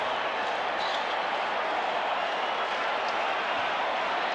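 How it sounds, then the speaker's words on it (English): A large baseball crowd at the Colorado Rockies' stadium during the 1995 playoffs roars in a steady, dense wash of cheering and applause, loud and unbroken throughout. "And the reaction from the Rockies crowd and their dugout."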